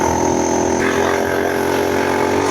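A FRP GMB100 mini bike's small engine revs hard and steady at high pitch at speed, a continuous loud whine with no pauses, close to the listener.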